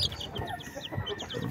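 Aseel chicks and chickens clucking in a backyard, with repeated short soft clucks and peeps close by over a low ambient rumble and no talking.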